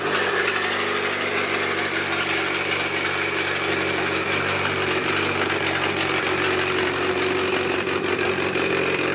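An H/F series engine swapped into an EK Honda Civic hatchback idles steadily close by, a continuous loud hum with an even mechanical buzz throughout and no voices.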